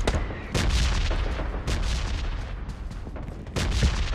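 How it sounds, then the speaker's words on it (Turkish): Video game gunfire rattles in repeated sharp bursts and booming shots, irregularly spaced over a few seconds, moderately loud with a rumbling, distant battlefield quality and no talk. "Mermi sesleri geliyor ya."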